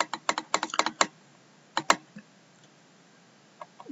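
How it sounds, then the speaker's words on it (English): Typing on a computer keyboard: quick bursts of crisp, close key clicks in an uneven rhythm, a short flurry, a pause, a couple more taps, then near silence with a few faint clicks. "So you're going to type that comment in."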